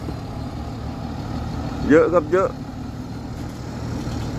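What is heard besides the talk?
Mitsubishi truck with 6UZ engine running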